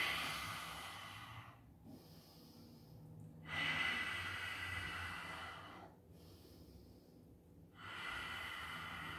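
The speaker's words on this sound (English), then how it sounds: "We're breathing." Deep breaths during a yoga core exercise, drawn in steady, hissing cycles through the nose and mouth, with short quiet pauses between them. The breathing is close and fairly loud, with no talking.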